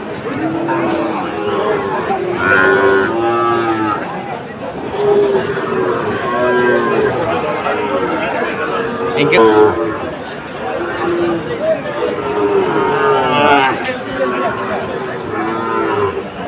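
Several Sahiwal cattle moo repeatedly at close range at a cattle market in Cumilla, deep drawn-out calls rising over a busy crowd of people talking in the background.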